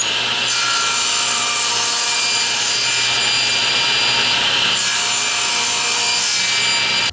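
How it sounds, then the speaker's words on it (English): Steady hand sawing through the bottom of a tapered wooden table leg, loud and close, with continuous rasping strokes that pause briefly midway before resuming. "I'm cutting off the bottom of all my legs"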